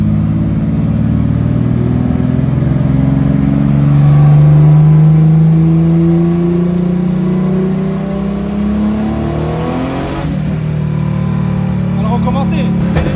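A turbocharged BMW E36 on a high-boost test run, the engine loud and close, climbing in a long rev with a wavering pitch before easing off. A brief high whine rises near the end.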